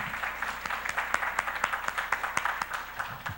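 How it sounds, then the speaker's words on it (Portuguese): A church congregation claps in quick, uneven bursts, a steady scatter of handclaps over a low hum of the room, fairly close and lively, with no voices standing out. "Vamos aplaudir o Senhor."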